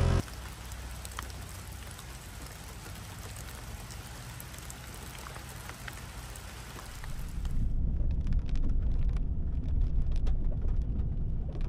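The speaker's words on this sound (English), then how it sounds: "Went from a light rain to a moderate rain. Light rain right now." Light rain patters steadily on a coastal redwood mountain trail, then grows denser and heavier partway through, a broad close wash of drops with no talking.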